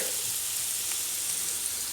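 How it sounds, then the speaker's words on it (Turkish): Chopped onions and leeks fry in a pan, a steady, even sizzle that continues without a break and with no other sounds. "Burada soğanlarım pişiyor."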